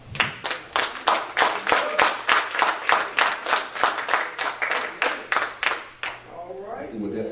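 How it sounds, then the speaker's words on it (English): A church congregation claps together in a loud, even rhythm of sharp, close hand claps for about six seconds. The clapping then stops and a voice is heard briefly. "Give the Lord a round of applause, please."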